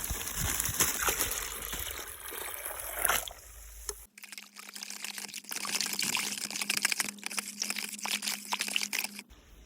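Water pours and trickles steadily with splashing and crinkling as 13:0:45 fertilizer is mixed into water for a sugarcane spray, then a low steady hum runs beneath continued liquid noise.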